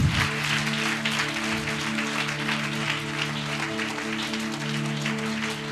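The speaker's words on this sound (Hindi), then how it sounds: "परमेश्वर के लिए जोरदार तालियां" Steady applause from a crowd fills the space, sustained and fairly loud, with a droning musical tone underneath.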